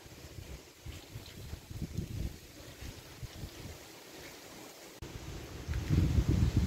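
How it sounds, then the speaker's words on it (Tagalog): Gusty wind from Typhoon Paolo in Kawayan, Isabela, blowing at six in the morning: a low, rough rumble that swells in uneven surges, strongest near the end, with no voices. "May konting hangin na, konting hangin"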